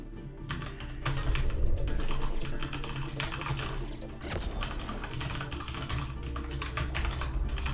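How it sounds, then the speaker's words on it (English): Fast, intense typing on a computer keyboard clatters in dense bursts beneath steady background game noise and chat, close and continuous through the stretch. "I was just hearing you, like, intensely typing"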